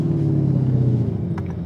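Lamborghini engine with an upgraded Akrapovic exhaust, a loud, steady low rumble heard up close and continuously, with a brief higher burst near the end.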